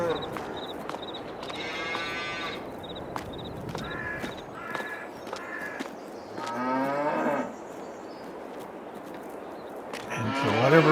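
Dairy cows in the Farming Simulator 22 video game moo repeatedly, several drawn-out calls spaced across the scene, over a quiet background with brief ticking sounds and bird-like caws.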